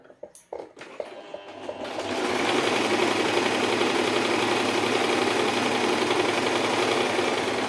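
A sewing machine stitches a potli bag, starting with a few clicks and handling knocks before settling into a loud, steady, close mechanical whir.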